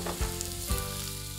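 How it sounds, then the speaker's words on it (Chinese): Onions frying in a pan for an Australian beef mince pie, a steady close sizzle with two soft thumps from stirring and a faint hum beneath. "洋葱先下去，让它炒到软。"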